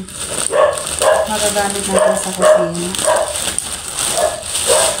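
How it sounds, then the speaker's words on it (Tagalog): A dog barking indoors during a product haul at home: several sharp barks and yips in irregular bursts, fairly close, mixed with someone talking. "Simula na yung ingay ng aso."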